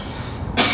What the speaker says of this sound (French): Pardon si je tousse, j'ai la gorge qui sèche